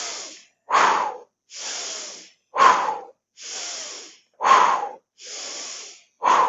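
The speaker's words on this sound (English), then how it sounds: "taking that deep breath all the way down into your guts" Slow deep belly breaths in a somatics exercise, alternating long airy inhales with stronger, louder exhales, about seven breaths in steady rhythm, close and alone with no talking.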